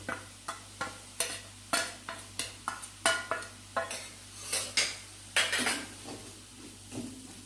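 Coriander, chili and turmeric powders stirred into a frying onion masala for an egg curry, with about a dozen distinct scraping and clinking spoon strokes against the pan over a soft sizzle, close and fairly quiet.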